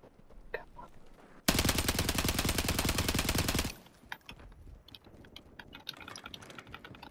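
A sustained burst of rapid automatic gunfire from Call of Duty, loud and continuous for about two seconds amid quieter game ambience and sparse clicks.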